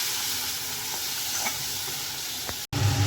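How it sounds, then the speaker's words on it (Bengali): Spices frying in a hot pan, a loud continuous hiss and sizzle with faint stirring, cut off by a brief gap before resuming. "মশলাটা ভাজা হয়ে গেছে"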